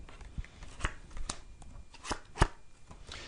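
A deck of tarot cards shuffled during a live French psychic reading broadcast, giving soft papery riffles and several sharp card slaps at an irregular pace, close and fairly quiet with no voices.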